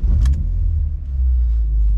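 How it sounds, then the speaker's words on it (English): A BMW E46 M3 engine running with a steady deep low rumble close by, a brief higher click near the start, no talk. "Let me turn on the car."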